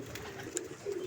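Pigeons cooing softly in low, rolling murmurs, faint and close, with a brief chirp in the middle.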